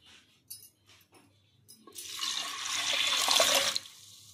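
Water is poured into a pressure cooker holding moong dal, a steady splashing pour that builds over about two seconds and then stops, preceded by faint kitchen clinks.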